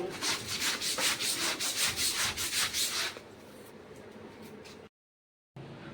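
Clothes are scrubbed by hand in a fast, rhythmic run of about a dozen rough rubbing strokes, then a softer, steadier scrubbing follows, broken by a short gap of silence near the end.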